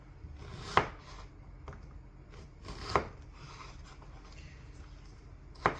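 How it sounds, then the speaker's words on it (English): A knife roughly chopping garlic on a board for a chicken fricassee: three separate sharp chops spaced a couple of seconds apart, close and fairly quiet, with soft handling noise between them. "So it's just kind of going to be a rough chop on this garlic."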